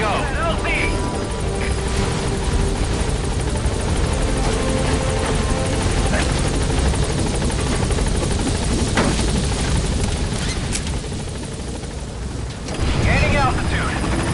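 The Pequod helicopter in Metal Gear Solid 5 lands and lifts off, a loud continuous rotor thrum filling the scene with radio voices talking over it.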